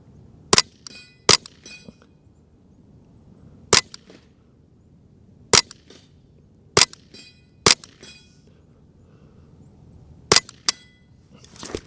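Sharp, loud reports from a Ruger Charger 10/22 with a 9-inch threaded carbon-fiber barrel firing CCI ammunition ring out eight times at irregular intervals over a quiet background.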